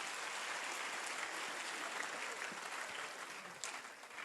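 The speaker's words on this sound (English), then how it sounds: "Give them a huge round of applause." An audience applauds the winning school quiz team at an all-India quiz competition, a dense, steady clapping wash that holds for the whole stretch, fairly distant, and thins slightly near the end.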